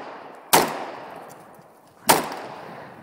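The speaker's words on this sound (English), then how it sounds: "shooting the AK with the" Two AK rifle gunshots spaced about one and a half seconds apart, each a sharp, loud crack followed by a long, fading outdoor echo.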